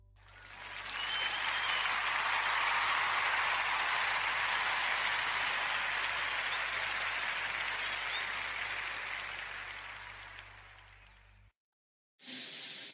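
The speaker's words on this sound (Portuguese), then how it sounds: "quero pedir a toda a gente uma enorme salva de palmas" A large audience breaks into loud, sustained applause that swells quickly, holds for several seconds and then slowly fades before cutting off abruptly, with a short burst returning at the end.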